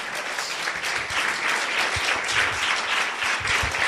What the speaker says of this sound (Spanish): Si le vas a aplaudir, dáselo con todas tus fuerzas.